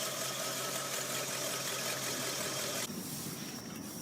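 Cadillac Eldorado luxury car engine running steadily and fairly loud from inside as the car pulls away, a continuous broadband rumble that shifts in tone about three seconds in, with no talking.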